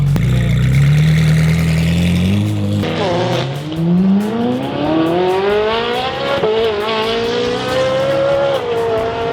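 A car engine revs up through a deep, throaty aftermarket muffler, the pitch climbing steadily through gears with loud, resonant rasp and brief gear-change dips.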